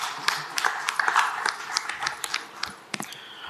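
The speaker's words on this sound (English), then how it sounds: "Can we have a round of applause for Mr." Audience applause at a start-up challenge event, a dense patter of clapping from a crowd that swells and then thins out, with scattered louder claps near the end.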